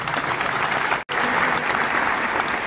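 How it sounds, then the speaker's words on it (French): An audience at a youth basketball camp event applauds for an NBA Africa representative, steady, dense clapping throughout, briefly cut by a short silence before resuming at full strength. "Je pense que vous devez l'acclamer."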